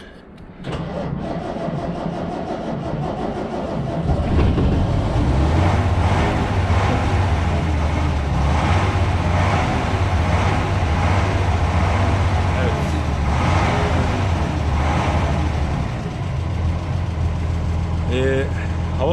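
A Mercedes O302 bus being converted into a camper cranks and its diesel engine starts on weak batteries, then settles into a loud, steady high-revving idle close by. Someone talks over part of it.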